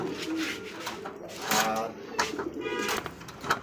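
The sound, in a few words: Bombay racer pigeons cooing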